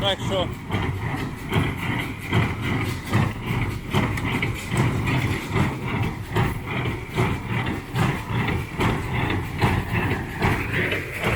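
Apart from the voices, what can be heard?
tractor engine driving slowly in low first gear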